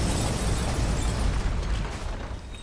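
Barracks crumbling in Dota 2 as the structure is destroyed, a loud, sustained rumbling burst of debris and impact noise that fills the whole moment and slowly tapers toward the end.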